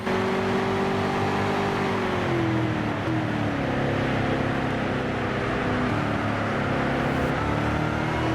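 A racing car laps the Brands Hatch circuit in GT Sport, its engine droning steadily with rising and falling pitch through gear changes, loud and continuous with no talk.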